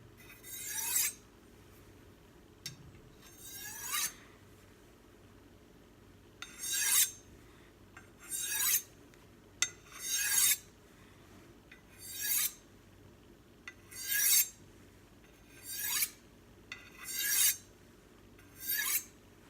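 A knife is honed on a smooth sharpening stone to straighten the burr: about ten separate scraping strokes at a fairly steady pace, close and crisp over quiet background, with no talking.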